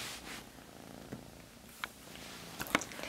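A cat purrs up close in a quiet room, a soft steady low rumble with a few faint clicks and rustles over it, no speech.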